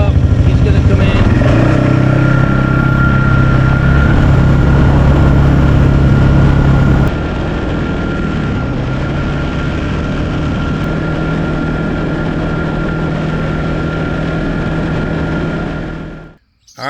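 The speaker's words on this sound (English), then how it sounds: "I hear a truck coming up." Truck engine on a mountain road in the Ozarks, a steady loud low drone with a strong hum that holds for most of the clip, dropping slightly midway before cutting off near the end.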